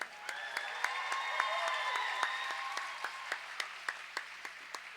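Applause for volunteers at a junior roller derby match, with crowd clapping and scattered sharper claps over a murmuring hall, fairly distant and soft.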